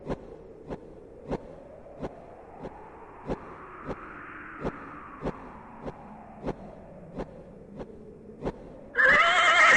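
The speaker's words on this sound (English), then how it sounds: "You slip the bridle over the horse's head. It whinnies its approval." In the King's Quest II remake video game, a long horse whinny swells and fades over a steady, evenly spaced clicking beat, then a sudden burst of bright noise at the end.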